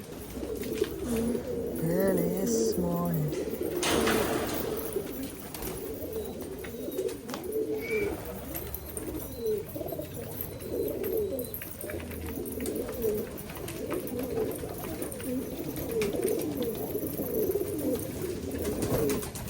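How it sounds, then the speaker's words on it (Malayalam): Male pigeons in a loft coo continuously in soft, rolling, overlapping calls, fairly close, with a brief faint rustle and occasional wing noise. "എല്ലാം നമ്മളെ മെയിൽ സെക്ഷൻ പ്രാവുകളാണ് മെയിൽ പ്രാവുകളെല്ലാം ഓക്കെ ആയിട്ടുണ്ട്"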